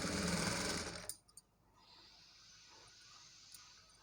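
A sewing machine stitching a blouse neckline runs in a steady loud whirring burst for about a second, then stops, leaving a quiet background hiss with a few faint clicks.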